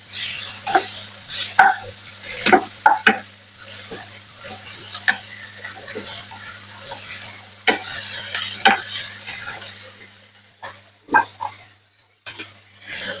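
Green beans and curry chillies are stirred in a frying pan, the utensil scraping and knocking in uneven bursts over a soft, faint sizzle.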